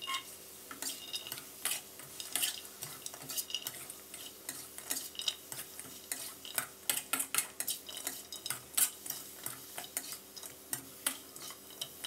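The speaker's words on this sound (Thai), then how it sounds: "ให้เราใส่กากหมูที่เราพักไว้ลงไปเลยครับแล้วก็ให้เราผัดคลุกเคล้าให้เข้ากันนะครับ" Crispy pork cracklings being stir-fried with red curry paste in a pan, with a rapid run of scraping, clinking utensil strokes against the pan over a soft sizzle, close and continuous.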